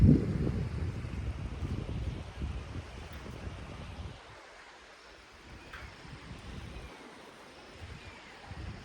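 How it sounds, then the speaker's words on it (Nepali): Steady rushing water from a river below, fairly faint, with wind buffeting the microphone at first and no voices. "ज्याक्दी खोलो तल बगिरहेछ है"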